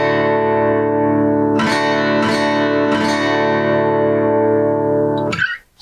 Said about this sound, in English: Versus if I play all 6 strings like you can do in drop D, your D sounds like this.